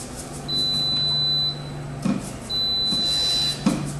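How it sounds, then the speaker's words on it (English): Two long electronic beeps, each lasting about a second, sound from a grill signalling its plates reached 400 degrees, over a low hum, with a few clicks in between. "That beeping sound that you hear is telling me that plates are already at that 400 degrees"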